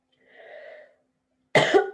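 A soft breathy throat sound, then a single loud, harsh cough close by.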